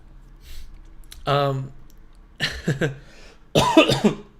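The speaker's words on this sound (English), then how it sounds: "Excuse all my coughing." A person sick with a fever coughs several times, three close, harsh bursts separated by short pauses, near and fairly loud.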